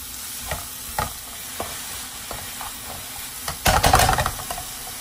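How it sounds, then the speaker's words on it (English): Eggplant sautéing in a pan for a Lao stir-fry with egg, a steady sizzle broken by repeated scraping stirs and a louder burst of frying near the end, close and alone. "Saute until eggplant is cooked."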